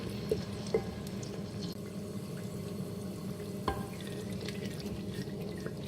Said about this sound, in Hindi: हल्की आंच पे हम प्याज़ों को सौते करेंगे।